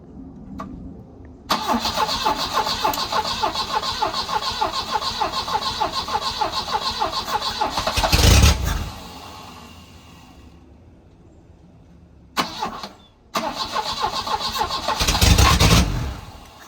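An abandoned Volvo 240 engine, fed through a boat carburetor, cranks at length with a loud, rhythmic starter chug, briefly catches with a roar, falls quiet, then cranks again and roars once more, close by.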